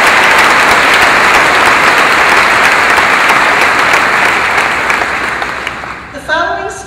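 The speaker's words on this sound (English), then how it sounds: "Let's give them a round of applause." Loud, sustained applause from a large crowd at a 2014 Woodbury High School graduation ceremony, steady for several seconds before thinning out near the end.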